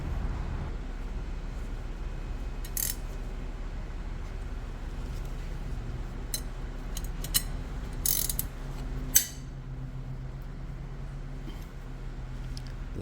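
A ratchet works on 19 millimeter brake bolts of a 2007-2014 GMC Yukon, with a few short, sharp clicking bursts standing out over a constant low mechanical hum, fairly close and with no talking.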